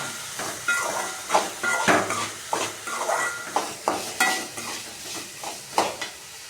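Tomatoes go into a pan of well-sautéed onions while being cooked for manathakkali keerai paruppu koottu, giving a steady sizzle and hiss with a regular series of scraping stirring strokes, fairly close and moderately loud.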